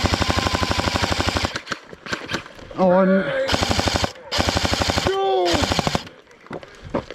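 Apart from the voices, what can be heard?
airsoft guns firing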